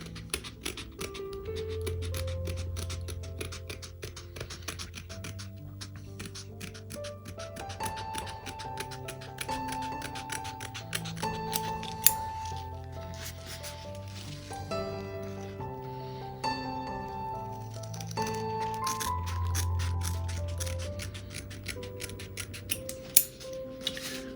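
Scissors cutting the edge of a diamond painting of the RMS Titanic, a steady close snipping and scraping under quiet background music.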